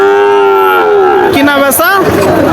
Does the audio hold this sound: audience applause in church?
no